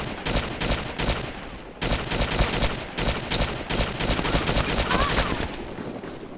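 Gunfire in the survival shooter DayZ: repeated loud bursts of rapid shots with short pauses between volleys, close and dense.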